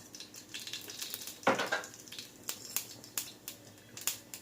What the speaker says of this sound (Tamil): எண்ணெய் ஊற்றிட்டு எண்ணெய் சூடு வரும் கடுகு சேர்த்துக்கிறேன்.